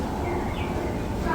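A brief chirping bird call comes from a Vanishing Cabinet in a Universal Orlando souvenir shop, heard faintly over shop chatter and indoor crowd noise.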